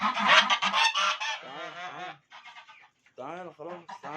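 Geese at a bird market give loud, repeated nasal honks that come in bursts and clusters, close by, with short pauses between the calls.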